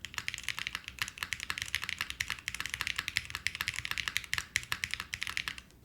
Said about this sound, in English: This is probably one of the only novel keyboards that we've received that actually sounds good